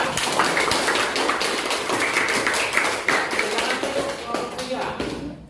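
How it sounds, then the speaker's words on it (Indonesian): A high school class claps for a student group, a dense burst of many hands applauding at once that holds steady for several seconds before cutting off. "berikan aplaus buat kelompok 3"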